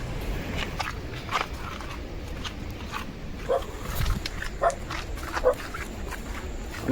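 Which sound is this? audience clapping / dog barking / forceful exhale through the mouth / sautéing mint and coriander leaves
dog barking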